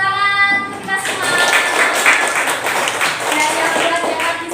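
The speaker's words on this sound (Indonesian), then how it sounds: "Tepuk tangan untuk kita semua." Schoolchildren in a classroom clap their hands together in a quick burst, with a few sustained voices ringing under the patter before it settles.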